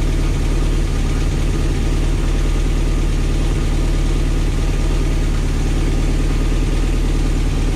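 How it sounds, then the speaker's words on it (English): A 1977 Rover P6 2.2TC engine idles steadily and loudly up close, giving an even, continuous low rumble with a faint regular ticking and no revving. "there's no real bad rattling or anything from the engine"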